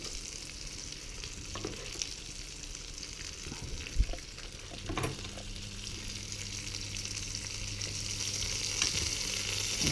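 Filet mignon sizzles steadily in a pan of butter and oil, a continuous bright crackle with occasional spoon clinks and spattering bursts while the fat is ladled over the meat.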